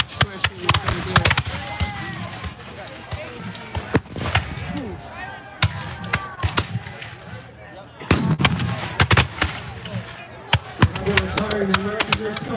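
Musket volleys crack repeatedly at a Battle of Bunker Hill 250th anniversary reenactment, sharp near and distant shots scattered irregularly over crowd murmur and a commentator talking.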